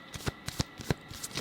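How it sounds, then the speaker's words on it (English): A deck of cards being shuffled, heard as a quick series of close, crisp riffling bursts in an uneven rhythm, quiet and with no voice over it. "as I shuffle your cards"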